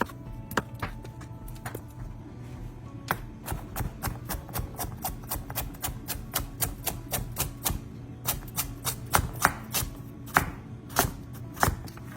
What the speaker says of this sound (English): Carrots are diced. Potatoes are diced.